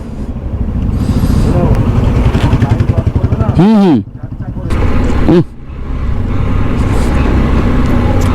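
A 125cc motorcycle descends a steep hill road in Darjeeling in first and second gear under engine braking, a loud, close, pulsing engine drone with two brief rising-and-falling revs, with talk at times.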